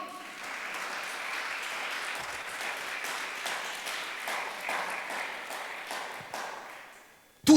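A church congregation applauds during an online worship celebration, a broad, fairly steady clatter of many hands with individual claps standing out, tapering slightly before a sharp louder knock at the very end.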